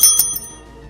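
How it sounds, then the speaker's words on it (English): A small bell rung once for a shiny Pokémon: a bright, fairly soft ding at the start, a second quick strike, then a ringing tail that fades out alone. "I'll ding my little bell"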